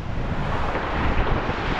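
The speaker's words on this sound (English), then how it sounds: "The waves we picked up overnight, southwest winds." Southwest wind buffets the microphone beside Lake Superior waves at a kayak launch, a steady loud broadband rush with gusty swells throughout and no talking.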